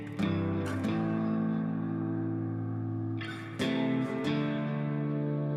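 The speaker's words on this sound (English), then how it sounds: "These riffs, these guitar tones are gorgeous." Distorted heavy guitar riffs from a melodic death metal track, thick sustained chords ringing alone with a short break near the middle before the riff resumes.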